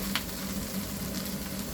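Buttered shrimp sizzle steadily in a pan, a close, even hiss of frying butter that carries without pause and with no talk.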